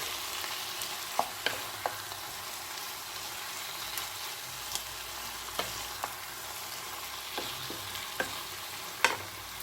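A pan of bottle gourd and prawn curry, just sweetened with a little sugar, is stirred with soft, faint sizzling, broken by occasional light scrapes and taps of the spoon at an uneven pace.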